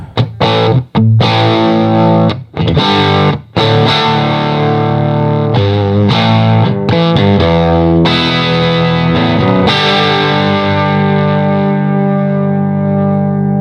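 Loud distorted electric guitar chords ringing out through an overdriven 1976 Fender Princeton Reverb tube amp, reverb off, volume at about 8, several stabs with short gaps, then a long sustained chord fading slowly.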